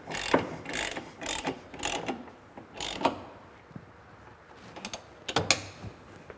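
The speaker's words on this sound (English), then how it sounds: "that's the last crank on the center bolt" Ratchet wrench cranking the center bolt of a Westin step bar on a truck cab mount, heard as irregular bursts of close, crisp clicking with short pauses between strokes.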